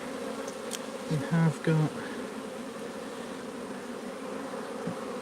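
Honeybees hum steadily around an open hive while someone speaks briefly over the buzzing, which stays close and constant with a few louder passes of single bees.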